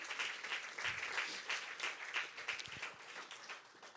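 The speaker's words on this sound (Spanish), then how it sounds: "Dale un fuerte aplauso al Señor." Church congregation giving a loud, sustained round of applause during a sermon, dense clapping heard from a distance in a reverberant hall, faintly recorded.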